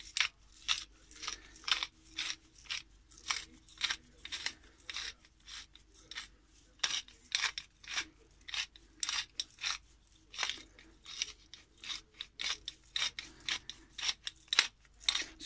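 Black pepper ground with a hand pepper mill over trout for the grill, a close, rapid series of dry crunching, ratcheting twists repeating in quick bursts across the whole stretch, with brief pauses and no voices.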